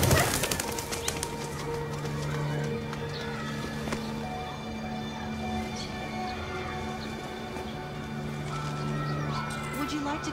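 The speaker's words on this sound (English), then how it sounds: "Pigeons." Pigeons flutter and flap their wings in the Detroit: Become Human video game, a few brisk bursts of wingbeats mixed with cooing and ambient outdoor game sound under a tonal score.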